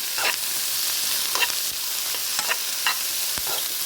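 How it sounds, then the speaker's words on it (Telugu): Capsicum fry stirred in a pan, a bright steady sizzle with a handful of crisp spatula scrapes at irregular intervals, close and fairly loud, with no voices. "క్యాప్సికమ్ వేసాక కూడా మళ్ళీ మధ్య మధ్యలో కలుపుతూ ఉండండి ఫ్రెండ్స్, లేకపోతే మాడిపోతుంది"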